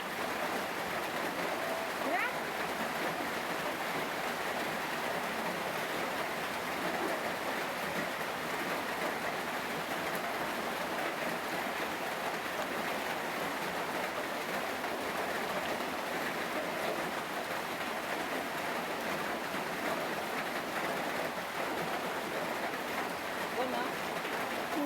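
Steady rain pours down without a break, a dense, even hiss of falling water that holds at a constant level throughout, close and enveloping.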